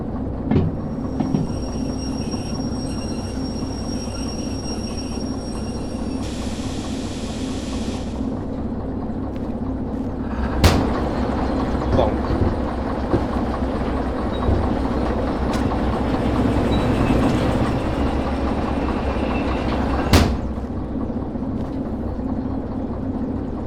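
Steady rumble of a train rolling on rails in the Derail Valley railway simulator game, a loud continuous low drone with occasional sharp clanks and a high whine early on, no talking.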